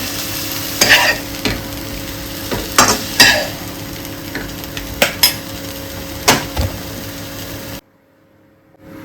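Apple pieces stirred in a pan for apple payasam, with sizzling frying and repeated metal spoon scrapes against the pan in bursts, before falling quiet at the end.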